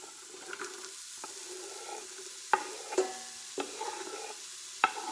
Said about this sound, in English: So I'm going to put the onions and garlic in.